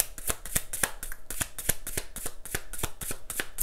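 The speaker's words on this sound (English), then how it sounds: "I just feel like shuffling these for the Divine Feminine." Rhythmic tarot card shuffling with regular crisp slaps over a soft continuous rustle, close up and moderately quiet, no voices.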